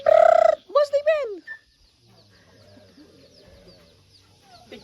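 A farmyard chicken gives a couple of loud, close clucks and squawks at the start, followed by quieter rural background sounds with faint voices.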